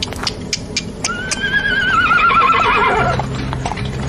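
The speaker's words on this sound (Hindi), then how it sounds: "चुपचाप कोच पर सवार हुआ और घोड़े चल पड़े" Horses whinny loudly in a long rising-and-falling neigh as a coach sets off, with hoof clip-clops and harness clatter at the start and a low rumble of wheels beneath.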